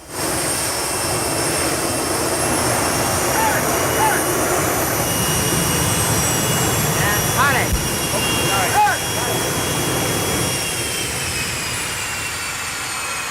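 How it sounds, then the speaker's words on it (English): Jet engine fired up on a film set, roaring steadily close by as it blasts kerosene exhaust wind, with brief voices and whooshing gusts mixed into the continuous loud rush. "They just kind of pointed it at us, fired it up, and blew kerosene exhaust on us."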